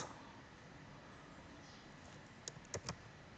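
A few faint keystrokes click on a computer keyboard near the end, over a steady low background hiss, while a word processor is being used.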